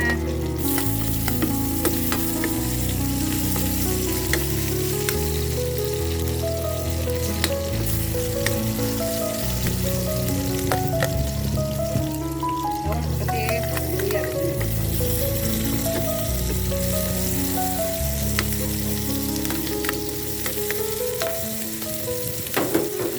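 Ginger, onion and garlic sizzle steadily in a hot pan for ginataang puso ng saging, a loud continuous frying hiss with occasional stirring clinks and scrapes throughout.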